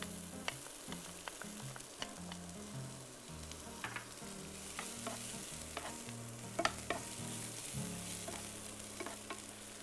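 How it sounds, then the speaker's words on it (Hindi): Chopped onion and garlic fry and are stirred in a pan, a steady soft sizzle punctuated by scattered spoon scrapes and taps, with a low rumbling hum underneath throughout and no talking. "इसके साथ ही मैं इसमें ऐड कर लूँगा ये चॉप किया हुआ"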